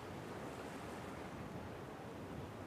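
Ocean surf washes over wet jetty rocks as the tide rises, a steady loud broadband rush of water with wind noise buffeting the microphone throughout, no distinct breaks.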